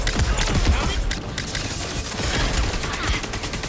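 Gunfire in the video game Concord, from hand cannons and crossbows, comes as a dense, loud barrage of punchy shots with a few heavier thumps mixed in and no talk.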